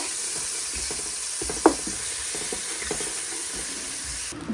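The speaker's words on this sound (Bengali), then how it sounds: "ভালো করে ভেজে নিচ্ছি চালটা" Rice frying in a pot for pulao gives a soft, steady sizzle and hiss throughout, with an occasional faint clink of a utensil against the pot.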